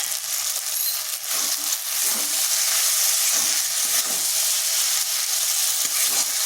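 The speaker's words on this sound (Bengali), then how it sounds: "একটু ভালোভাবে মিশিয়ে নিচ্ছি।" Sabudana khichdi is being stirred with fried peanuts in a hot pan, giving a steady close hiss and sizzle with scattered scraping and clinking from the spoon, and no voices.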